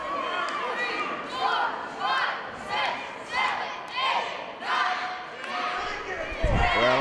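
Wrestling crowd at a live Great North Wrestling show in Renfrew, a dense roar of voices rising and falling in waves, with shouts, chants and excited cheering throughout and a louder surge near the end.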